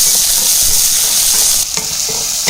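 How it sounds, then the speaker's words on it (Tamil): Tomatoes with onions sautéing in a pan for a vegetable kurma, a loud steady sizzle with stirring scrapes throughout. "இப்போ இதையும் சேர்த்து நல்லா தக்காளி நல்லா வணங்கி வரும்"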